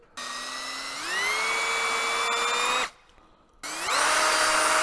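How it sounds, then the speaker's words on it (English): A power drill enlarging a hole in a Haslab Proton Pack whirs up to speed, bites in with a rising whine, stops briefly, then spins up again loudly close by. "I'm just going to have to drill this hole out a little bit bigger"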